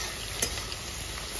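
Chopped onion frying in a pan, a continuous close sizzle with a faint clink partway through, and no talking.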